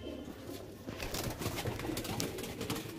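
Chutiyal pigeons in a loft cooing softly over a rustling, busy background, a faint, steady murmur of calls without talk.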